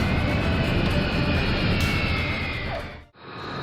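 Broadband roar of a MiG-31, a two-seat supersonic fighter interceptor, flying past loud and steady before cutting off abruptly near the end.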